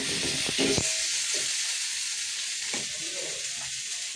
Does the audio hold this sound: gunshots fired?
no